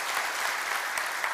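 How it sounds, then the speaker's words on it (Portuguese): A church congregation bursts into brief, continuous applause during a worship service, a dense wash of many hands clapping together. "Uma salva de palmas ao Senhor."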